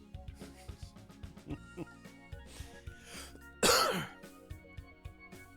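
One harsh, loud cough or throat-clearing bursts out close by over a steady background of music and low sounds.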